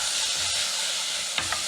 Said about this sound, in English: We're going to saute for a minute or two.